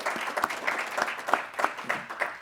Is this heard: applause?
yes